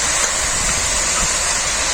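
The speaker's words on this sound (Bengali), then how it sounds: "কড়াইতে সেদ্ধ করতে দিয়ে দিচ্ছি" Shushni greens boiling in a wok, a steady loud hiss and bubbling roar of water with no talk.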